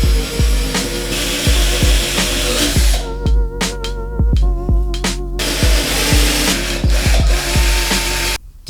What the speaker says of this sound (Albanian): Gjithashtu me këtë trapan mund të bëni dhe gjëra si këto.